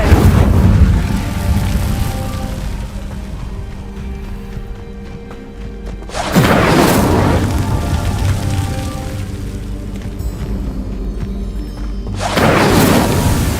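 A fire spell is cast in a video game: loud whooshing, roaring bursts hit twice, each fading into a lower rumbling tail and a softer ambient hum.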